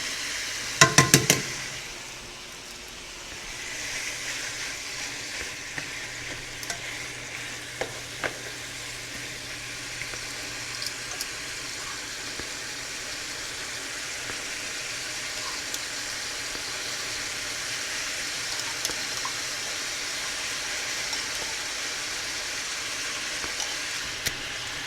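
Steak bites sizzle and fry steadily in a hot pan with garlic butter after a brief clatter at the start, a continuous close hiss with occasional small pops and no talking.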